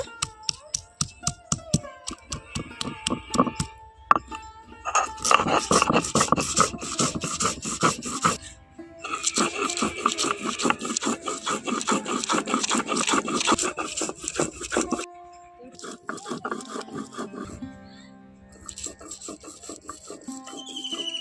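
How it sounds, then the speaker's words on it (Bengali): Spices, including black mustard seed and turmeric, ground into a paste on a stone grinding slab: close, rhythmic scraping and rubbing strokes in bursts, starting as separate knocks and building into continuous grinding with brief pauses. "এখন আমি এই মশলাগুলোকে খুব ভালোভাবেই পেস্ট করে নেব শিল নড়াইতে বেটে নেব"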